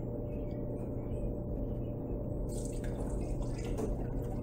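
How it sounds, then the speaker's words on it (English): Two cups of milk poured into a bowl for a homemade chocolate cream pie, a steady liquid stream with dripping and splashing that brightens toward the end, close by with no talk. "Pouring in 2 cups of milk."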